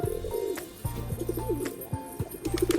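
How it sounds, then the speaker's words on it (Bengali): Tumbler pigeons kept as flying birds coo in a close series of low, throaty calls, a few separate rounds of cooing repeating across a few seconds with no talk. "এখানে যতগুলো পায়রা দেখছো সবই কিন্তু বন্ধুরা বাজির পায়রা"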